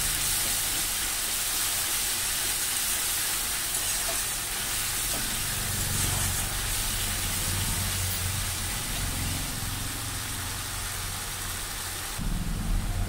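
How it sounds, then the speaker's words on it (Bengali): Ginger garlic paste sizzles steadily in hot oil in a home pan, a dense continuous frying hiss with a slight shift near the end. "এবার আমার আদা রসুন পেস্টটা ভালো করে দেখো কষে নিয়েছি, পুরো তেল একটু ছেড়ে দিয়েছে।"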